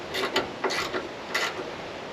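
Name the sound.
undoing door hinge bolt on Holden Monaro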